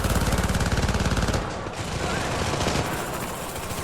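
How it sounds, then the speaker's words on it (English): Rapid submachine gun fire from the video game Syndicate rattles loud and close in a fast, steady burst, then drops to a dense, noisy game mix of lingering fire and effects. "This little SMG I'm using right here doesn't have much range, but look at the damage it does up close."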